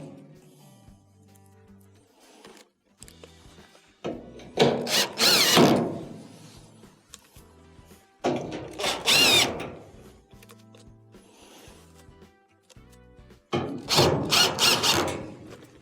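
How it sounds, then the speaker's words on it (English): Three bursts from a power screwdriver driving Phillips screws back into a dryer cabinet during a belt switch repair, each a whirring run of about one to two seconds separated by quiet handling clicks. "Next, go around and reinstall your Phillips screws."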